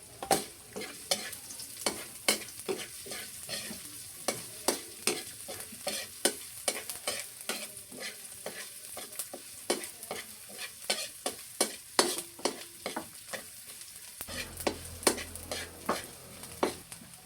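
Ginger being sautéed in a pan for squid in coconut milk, a soft ongoing sizzle punctuated by frequent rhythmic clacks and scrapes of a utensil against the pan.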